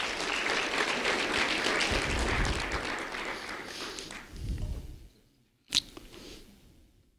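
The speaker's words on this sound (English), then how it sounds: "A round of applause for Emerson," Dense applause for a kindergarten student at a school ceremony, steady clapping from a crowd for about four seconds that fades out and ends with a sharp single knock.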